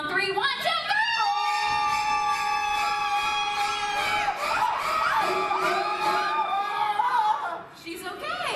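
A theme-park special effects show audience screams together on cue, a loud sustained crowd shriek with many high voices and children shouting, tailing off into cheers and laughter.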